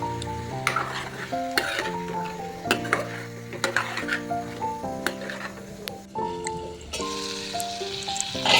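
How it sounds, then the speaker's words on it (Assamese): Tomatoes with crushed ginger and garlic are stir-fried in a pan, with a sizzling hiss and repeated spatula scrapes and clinks against the pan under a melodic music track. "আৰু অকণমান সময় এতিয়া আকৌ ভাজিম, যাতে বিলাহীখিনি ধুনীয়াকৈ সিজি যায়।"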